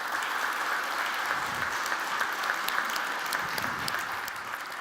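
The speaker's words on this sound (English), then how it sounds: "So I'd like to ask you to give a warm applause for these companies" Symposium audience applauding a group of companies, a steady, moderately distant patter of many hands that holds evenly and eases off slightly at the end.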